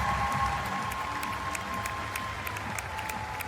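Steady applause and crowd noise fill the room at the 2025 WNBA draft after the seventh overall pick by the Connecticut Sun, a dense wash of clapping with scattered cheers, continuous and fairly loud.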